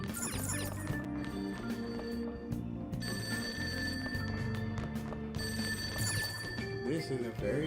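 Phone ringing in the Persona 5 Royal game, a repeated electronic ring in bursts with pauses between, fairly loud, with game music and talk underneath.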